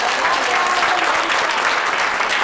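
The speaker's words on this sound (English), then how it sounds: "let's all give a final round of applause to tonight's interpreter, Guadalupe Carabello." Audience applause at a Board of Education community forum, a dense, even round of many people clapping that holds steady and loud for the whole stretch.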